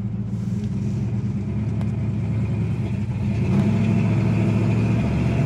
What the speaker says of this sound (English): even with the sound of the dual exhaust, you really don't know it's a 318 under the hood